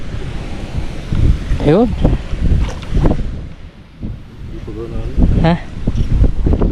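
Strong wind gusts buffet the microphone outdoors near water, a steady rumbling roar under close conversational speech throughout.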